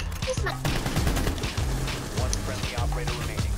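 Rapid gunfire in a Rainbow Six Siege match, with loud bursts of automatic shots and thumping reports fired in quick clusters across the whole stretch, close and dense, with no clear talking.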